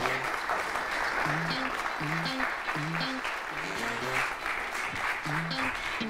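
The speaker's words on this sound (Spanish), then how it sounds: "Fuerte el aplauso para doña Marta Morfe." Sustained applause from a crowd filling the whole stretch, with music playing underneath.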